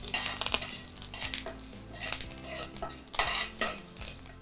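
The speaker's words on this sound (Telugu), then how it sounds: "కొన్ని ఆవాలు, కొద్దిగా కరివేపాకు వేసుకొని ఫ్రై చేసుకుంటాము." Mustard seeds and curry leaves fry in a pan for jeera rice, with metallic scraping and clinks of a spoon against cookware over a soft, steady crackle, close and fairly loud, with no voices.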